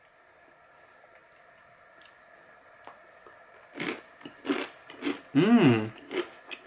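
Close, crunchy bites and chewing of apricot-flavoured hamster and rabbit treats, several moist crunches in a row after a quiet start, with a brief hum of a voice.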